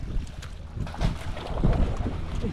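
Strong wind buffeting a microphone out on the water near a boat, uneven gusting rumbles and roars across the whole short stretch.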